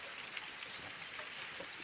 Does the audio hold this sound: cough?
no